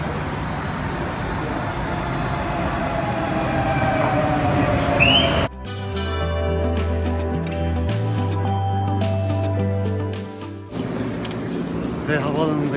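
An Istanbul metro train rumbles on from Şirinevler toward Atatürk Airport with a steady loud roar, shifting into a droning, tonal motor hum partway through before the rolling noise returns, heard from inside the carriage.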